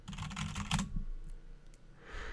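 Fast typing on a computer keyboard: a dense burst of rapid clicking keystrokes for about a second, then a few sparse taps against quiet room tone, with no voices.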